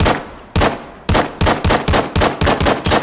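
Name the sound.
pistol gunfire in the VR video game Zero Caliber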